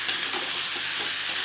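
A spoon stirs fruit chutney with salt and turmeric in a hot pan, giving a soft continuous sizzle with a few light scraping taps, close by and steady.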